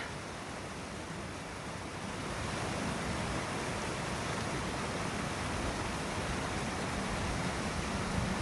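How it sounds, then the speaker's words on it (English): Mountain creek water rushing over rocks just below a waterfall on the Pacific Crest Trail, a loud, steady, close broadband rush that swells slightly after the first two seconds and continues without a break, with no voices. "All the rocks just have water rushing across them."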